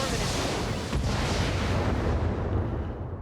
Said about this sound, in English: I'll let fly the missiles as well.